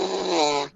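Poor-quality horn lip buzz, a single harsh, raspy nasal tone lasting under a second, loud and close with a quick fade at the end.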